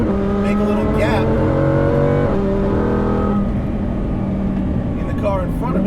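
Supercharged 870 hp Lamborghini Huracan Performante driving slowly on a track in sport mode, its engine droning steadily with shifting pitch and a brief rise in revs, heard from inside the car with a voice talking over it.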